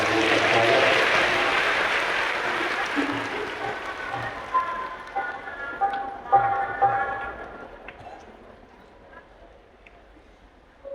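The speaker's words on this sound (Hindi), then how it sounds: "एक बार जोरदार तालियां करना" A large crowd at an outdoor Shiv Mahapuran katha gathering applauds loudly, a dense wash of clapping that slowly thins and fades, leaving scattered claps and soft musical tones behind.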